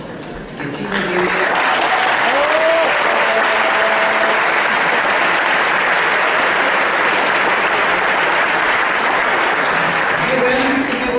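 Audience at a university lecture on free education bursts into sustained applause, loud and steady for about ten seconds with dense clapping and some crowd noise mixed in.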